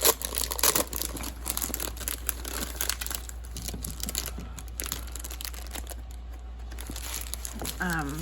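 Sheets of specialty craft paper from a card-making suite are pulled out and handled, producing close bursts of rustling and crinkling that come and go irregularly.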